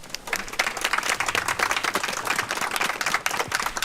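An audience at a Korean memorial for martyrs applauds the martyrs' parents with vigorous, sustained clapping that stays dense and lively throughout.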